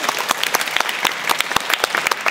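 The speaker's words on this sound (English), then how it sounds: "A round of applause." Audience applause at a queer theory panel event, close and lively with distinct sharp claps standing out of a brisk, dense patter.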